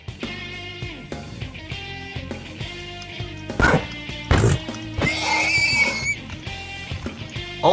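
Minecraft horses and donkeys neighing and braying in a video game, a series of whinnies and calls over ongoing game sounds at moderate loudness, with no speech.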